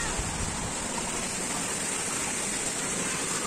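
Mountain water rushes steadily in a dense, continuous roar, like a strong flow pouring down, loud and unchanging throughout.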